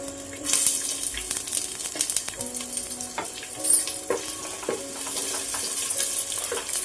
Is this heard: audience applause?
no